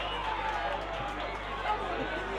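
Grand final crowd at a country football match between Nuriootpa Rovers and South Gawler, a steady roar of many voices filling the ground, continuous and moderately loud with no single voice standing out.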